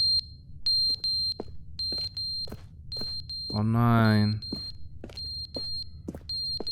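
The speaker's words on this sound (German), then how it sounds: "der Rauchmelder will die Batterien gewechselt haben" Short electronic smoke detector low-battery chirps repeat at a steady pace inside The Stanley Parable video game, faint and bright, with a man's brief exclamation partway through.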